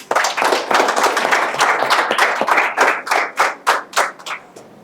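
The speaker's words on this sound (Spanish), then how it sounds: "Lo recibimos con un fuerte aplauso." An audience gives strong clapping to welcome a speaker at a Honduran child-protection committee event, starting dense and loud, then thinning into a few scattered, separate claps before stopping.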